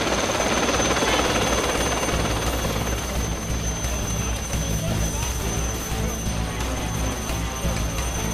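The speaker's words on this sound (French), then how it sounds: "hélicoptère avec personnel de désincarcération demandé." A rescue helicopter carrying extrication crew at a road accident scene gives a steady, loud rotor and turbine roar that holds throughout.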